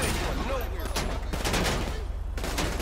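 Video game gunfire rattles in rapid bursts, several overlapping volleys under a steady background hum.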